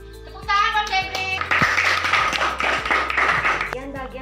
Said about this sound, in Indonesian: Tepuk tangan buat Febri